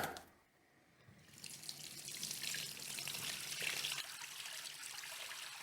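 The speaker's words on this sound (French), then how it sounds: "je le mélange bien à l'eau avant pour qu'il soit bien dissous" Coarse sea salt is stirred into water for bread dough, giving a steady, close liquid swirl and splash that starts softly and builds after the first second, continuing without speech.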